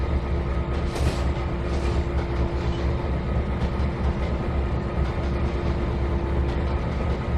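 A train rolling along track in the Trainz 2022 railroad simulator game, a continuous loud rumble with a steady hum and faint rhythmic clatter, sustained and close with no speech.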